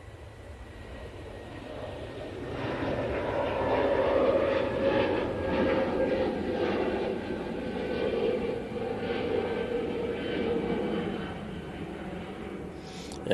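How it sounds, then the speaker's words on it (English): A Swiss Airbus A320neo jet departs an airport, its engines building to a steady loud roar that holds for several seconds and then slowly eases as it moves away, with no talk over it. "Swiss A320neo now departing,"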